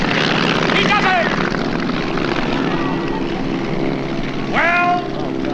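A propeller airplane drones steadily overhead with a pickup hook hanging from a line beneath it, the engine noise continuous and loud throughout, with voices shouting over it.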